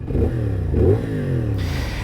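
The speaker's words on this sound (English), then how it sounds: "450 cc parallel twin, has a 270-degree crank, which is why this bike sounds like this." A 2023 CFMOTO 450 SS motorcycle's 450 cc parallel-twin engine with a 270-degree crank revs twice in quick succession, a throaty, lumpy blip, close and loud with no talking.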